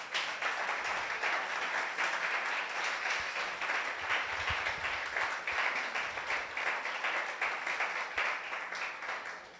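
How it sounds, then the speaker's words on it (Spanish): A church congregation claps steadily for nearly ten seconds, a dense, even wash of many hands at moderate distance with no break and little else beneath it. "Denle un aplauso al Señor si lo cree."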